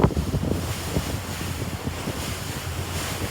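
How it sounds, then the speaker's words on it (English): Strong wind blasts across the microphone on a fast boat heading to Puffin Island, a constant roaring buffet with splashing water and thumping hull beneath. "it was very windy"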